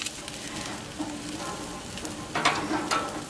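Fresh asparagus spears hit a hot outdoor grill beside chicken, setting off a steady close sizzle with a few sharper crackles and pops as they are laid on the grates.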